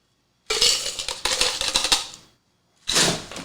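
Ice cubes rattle and clink against one another in two loud bursts close by, the first longer and the second shorter, with a short pause between them and no voices.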